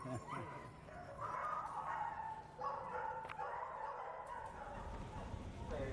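A puppy barks and yips repeatedly in short bursts with whimpering between them, fairly close and clear, while a faint voice murmurs underneath.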